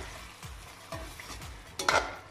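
Vegetable biryani sizzles in a pan while a spoon stirs it in several steady strokes, each scrape close and distinct over continuous frying hiss, ending in a louder clatter.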